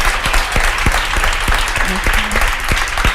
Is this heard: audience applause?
yes